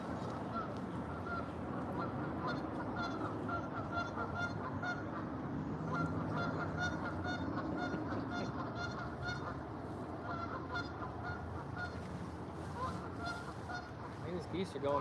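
A flock of geese honks continuously near an urban fishing spot in spring, the calls overlapping in a busy, moderately distant chorus, with wind noise and occasional talking underneath.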